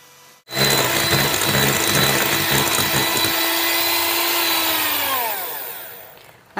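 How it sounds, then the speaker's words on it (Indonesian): An electric mixer beats margarine and powdered sugar for a layered prune cake, a loud steady whir that starts abruptly and later winds down in pitch as the motor stops. "Kemudian kita lanjut memixer hingga margarinnya ini mengembang putih dan juga lembut ya teman-teman."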